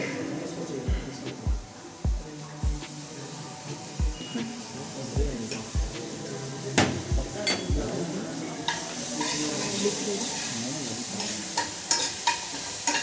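Garlic frying in a pan, a steady sizzle under a series of sharp, regular spatula knocks against the pan, then a denser, brighter hiss in the final seconds.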